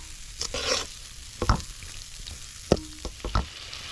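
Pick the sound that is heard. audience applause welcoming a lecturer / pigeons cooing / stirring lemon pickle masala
stirring lemon pickle masala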